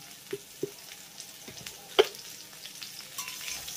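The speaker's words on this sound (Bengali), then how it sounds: "এবার লবণ আর হলুদ গুঁড়োর সঙ্গেও সজনে ডাঁটার আলুটাকে আমি এইভাবে খুব ভালো করে নেড়ে চেড়ে 3 থেকে 4 মিনিটের মতো ভেজে নেব।" Drumsticks and potato chunks stir-fried in oil with turmeric and salt, giving a soft, low sizzle with occasional scraping stirs and one sharper clack of the spatula against the pan.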